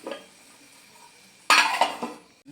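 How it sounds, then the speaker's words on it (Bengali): A lid set down on a pot of potato and egg curry, a sudden close metallic clatter that rings briefly after a quiet stretch of faint kitchen noise. "এবার আমি ঢাকা দিয়ে দিচ্ছি"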